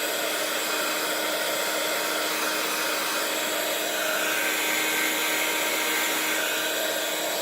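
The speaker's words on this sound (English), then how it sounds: "I can now use my heat tool to dry the tag," A heat tool blows a steady, loud, broadband hiss at close range while warming and drying a craft tag to lift off leftover petroleum, running continuously without a break and with no talking.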